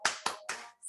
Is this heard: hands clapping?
yes